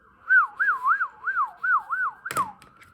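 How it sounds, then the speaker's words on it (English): An emergency siren wails in a fast, regular up-and-down sweep, about seven cycles, loud and clear, then ends with a sharp burst of noise. "They're saying this is really important stuff. That's what that siren means."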